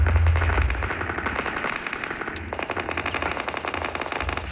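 Loud automatic gunfire from combat near Pokrovsk rattles in rapid, continuous bursts over a deep rumbling low end, with no voices.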